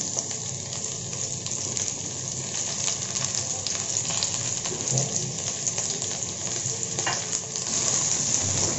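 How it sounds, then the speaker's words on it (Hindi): Okra and potatoes stir-fry on a high flame, a steady dense sizzle with scraping stirs running throughout, close and fairly loud with no talking. "आलू को भी मिलाते हुए पाँच मिनट के लिए भून लेंगे हाई फ्लेम पे"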